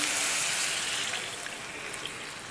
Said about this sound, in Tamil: ஒன்றரை கப்பு தண்ணி அளந்து வச்சுருக்கேங்க இது வந்து ஒரு சொம்புக்கு எனக்கு கரெக்டாக இருந்துச்சு அதை ஊற்றிக்கிறேன்